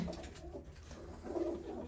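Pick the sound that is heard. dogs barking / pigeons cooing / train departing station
pigeons cooing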